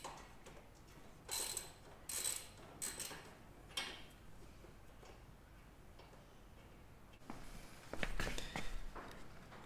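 A hand ratchet with a 13/16 socket works a spark plug loose from a Husqvarna TS342 mower, giving quiet clicking bursts in short irregular runs, close by and without speech.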